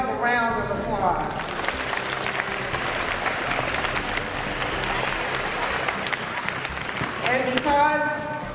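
Students and families at a school academic awards ceremony applaud in a steady, dense round of clapping, with children's voices chattering at the start and end.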